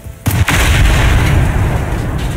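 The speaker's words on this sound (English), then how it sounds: "I like these explosions." A loud, sudden explosion in the video game Generation Zero bursts in and then rolls on as a sustained, roaring rumble with crackling debris, no voices present.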